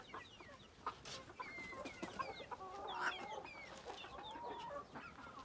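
Chickens let out into a home garden cluck and chatter in short repeated calls, fairly faint over a quiet outdoor background, with no one speaking.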